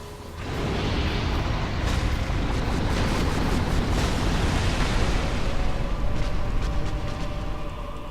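A lava eruption from a boss in the Dark Souls video game, a loud, sustained roaring blast that fills the whole clip with a rumbling, crackling wash.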